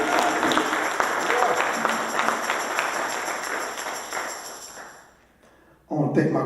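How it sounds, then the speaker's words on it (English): Audience applause at a Kwanzaa celebration, a dense steady wash of clapping from a crowd that carries for about five seconds, then fades out into a short quiet gap before a voice resumes. "So give yourselves a round of applause."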